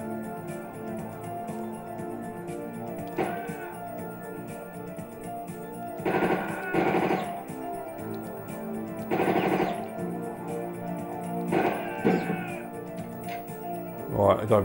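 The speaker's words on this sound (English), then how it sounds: "Bloody explosive shotgun again." An explosive shotgun fires in a video game: a few loud, bursty blasts spaced a few seconds apart over a constant background of game music and sound, with a voice talking over it.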